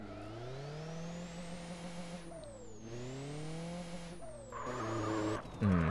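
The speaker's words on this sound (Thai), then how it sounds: "เดี๋ยวเรามาฟังเสียงรถกันสักหน่อยดีกว่าทุกคนครับว่าเสียงรถนี่จวดจ้าสักแค่ไหนครับ" A van engine in GTA San Andreas drones steadily, its pitch climbing and then dropping with each gear change, with a tire squeal near the end and no talk.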